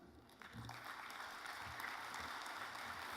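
Conference audience at a peace convention applauding steadily, a dense, even wash of many hands clapping that swells slightly after the start and holds at a constant level, with no talking.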